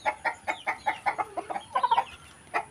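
Chickens cluck in a rapid, uneven series of short calls, fairly close, with no talking.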